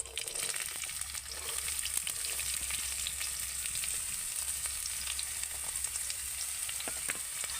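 Sliced beans and carrots fry in hot oil, a steady, fairly loud broadband sizzle running unbroken throughout with faint scattered crackles and no talking.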